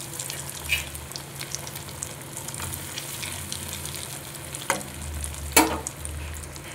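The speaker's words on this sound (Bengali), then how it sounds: "বাকিগুলো ভেজে নেব এবারে।" Fish cutlets fry in hot oil with a continuous, moderate sizzle and bubbling. A few sharper crackles and pops stand out along the way, with no speech.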